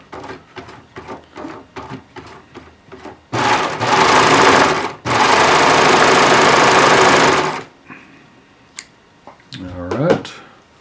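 A sewing machine stitches a seam through fabric under a heavy, tight presser foot, running in two loud sustained bursts with a brief pause between, after stretches of talking.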